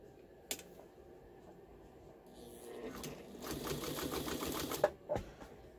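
A Pfaff 130 sewing machine runs a short burst of stitching, a rapid mechanical clatter that rises after a few quiet seconds of faint handling knocks and ends with a couple of sharp clicks.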